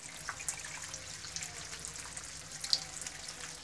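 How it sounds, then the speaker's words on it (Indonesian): Water draining from a snakehead fish tank during cleaning gives a faint, steady trickle and splash, with a few brief drips over a quiet background hiss. "air yang pertama sudah kita kuras"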